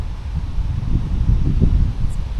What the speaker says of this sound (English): Hopefully you can hear the trees rustling,